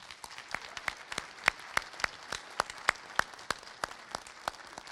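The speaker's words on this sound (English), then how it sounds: "I want to give another round of applause to our 7 storytellers." A small audience at an autism-themed storytelling event gives a round of applause for seven storytellers. The claps are scattered, distinct and fairly faint, keeping an uneven rhythm for several seconds.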